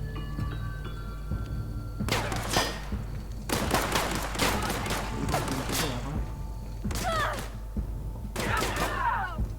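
Bursts of gunfire in the video game The Outer Worlds, several clustered volleys of sharp cracks and thuds in separate waves over a humming background, mixed with game voices and shouts.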